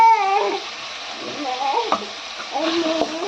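Tomatoes, onions, green chillies and garlic sauté in a pan for a mochai kottai kuzhambu, making a soft frying hiss beneath louder wavering tonal sounds and a few sharp stirring knocks.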